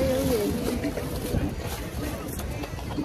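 A small motorboat runs on the water off Maragogi's beaches in Brazil, its steady engine drone and wind-blown wash continuous and fairly faint, with a voice talking over it.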